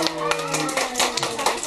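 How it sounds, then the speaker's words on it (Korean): Children in the audience at a balloon puppet show clap in quick, uneven bursts, close and fairly loud, mixed with voices chattering underneath. "박수."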